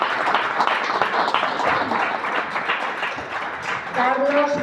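Audience applauding at a CD launch presentation for a musician, sustained dense clapping from a crowd, with a voice rising over the end of it.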